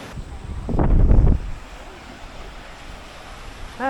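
Ocean waves wash against the rocky shore of Enoshima island, one loud surge crashing up then receding into a gusty, windy hiss, with a voice starting at the end.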